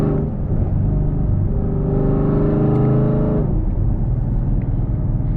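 Camaro SS making about 500 wheel horsepower on E85 with a tune, its V8 loud and close as it accelerates hard through a long pull, pitch climbing, dipping briefly at a shift, then rising again.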